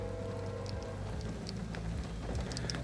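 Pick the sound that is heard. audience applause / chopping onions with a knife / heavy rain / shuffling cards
heavy rain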